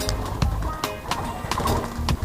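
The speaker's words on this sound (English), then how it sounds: "Orange dove and turtle dove." Doves at a bird farm, including an orange dove and a turtle dove, give low, soft coos amid sharp clicks and rustling bird activity nearby, with no talking.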